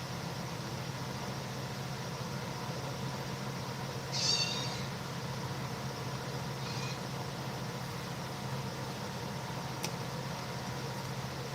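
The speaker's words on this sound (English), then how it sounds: "And Pumpkin is meowing to my left, out of camera view." A cat meows twice from off to one side, short and moderately close, over a quiet steady background hum.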